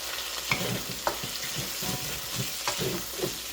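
Garlic, ginger and peppers being stir-fried for Sichuan mala chicken, giving a steady loud sizzle in hot oil with scattered spatula scrapes and clinks against the pan, no voices.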